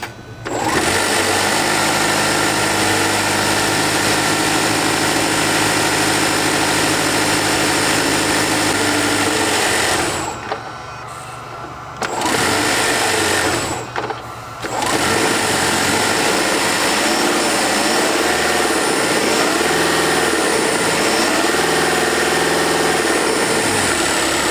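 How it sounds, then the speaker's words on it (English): A Subaru Forester Hybrid engine idles steadily while parked in a driveway, with a constant mechanical hum and buzz, briefly dropping out twice before resuming, close and loud. "I'll try and get the engine to make a sound for you while it sits in my driveway here"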